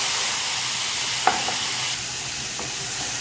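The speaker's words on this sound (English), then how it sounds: "Saute the tomato a little bit." Whole tomato sautéing in oil with clove, jeera and other biryani spices for an egg dum biryani, giving a steady close hiss with a couple of sharp spatula clicks against the pan.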